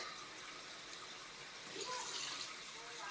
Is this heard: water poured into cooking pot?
yes